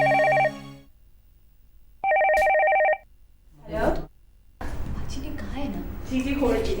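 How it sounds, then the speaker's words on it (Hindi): A telephone rings in two short bursts of bright electronic trill, separated by quiet, followed by people talking nearby. "शमशाद आंटी का फोन है"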